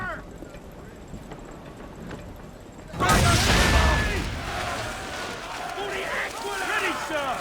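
Ship swivel guns fire at powder barrels in Assassin's Creed III, a sudden loud burst of blasts and rumbling explosions after a quieter stretch, with voices calling out.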